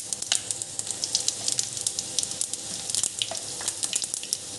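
Cumin seeds sizzle in a hot pan with a light hiss, broken by many quick, crisp pops and crackles scattered irregularly throughout.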